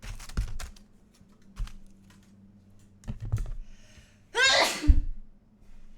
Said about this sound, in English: I wasn't expecting to sneeze, to be honest.